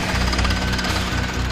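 A heavy drill cores through extremely hard canyon rock with a loud, steady pounding roar that holds for the whole moment, with no voices.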